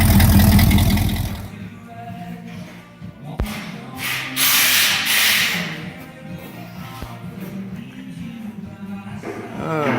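A car engine fitted with dual exhaust idles with a deep rumble, revving briefly a couple of times, heard close with some mechanical clatter.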